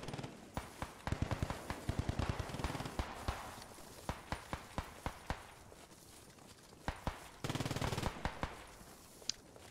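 Machine gun fire in the WWII shooter Post Scriptum, sharp repeated bursts of shots of varied loudness, some near and some farther off, over steady background noise, with no one talking.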